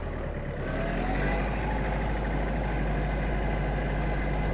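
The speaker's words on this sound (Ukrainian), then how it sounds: "Відчувається, що тут працює 4 циліндра, дуже м'яка робота." A Mitsubishi MT-285 mini tractor's four-cylinder engine runs smoothly and steadily, a close, even drone with a strong low rumble and no break or change in pace.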